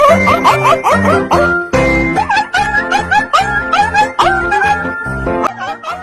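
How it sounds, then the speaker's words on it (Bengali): A dog howls in a long, wavering, melodic way as if singing, with rising and falling pitch; the loud, continuous howls are broken by short pauses, with music-like tones throughout. "এবার একটু কুকুরের গান শুনে নিন"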